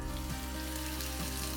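Partridge frying in a hot pan with a squirt of light vegetable oil, giving a steady, close sizzle over a low electrical hum with no break.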